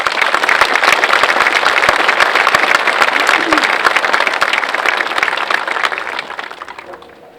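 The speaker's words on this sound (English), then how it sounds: "You guys deserve a round of applause from everyone here." A graduation crowd at Sullivan High School applauds the graduating class, loud dense clapping that fills the space steadily for about six seconds before tapering off at the end.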